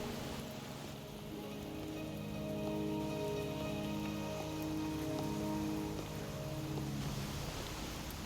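Steady rain patters on surfaces in the Wuthering Waves video game, a continuous even hiss with soft ambient tones beneath and no talk.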